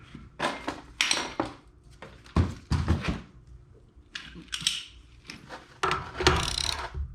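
A greasy ratchet wrench working a trailer wheel bearing nut, several close bursts of quick metallic clicking separated by short pauses, with no talk.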